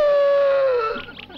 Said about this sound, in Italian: Abbaiate, abbaiate ancora.